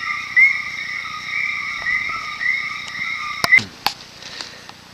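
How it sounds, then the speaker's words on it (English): Frogs call in a dense nighttime chorus in El Yunque rainforest, Puerto Rico, a steady high-pitched trill holding throughout with a few sharp clicks and chirps near the end. "Lots of frogs."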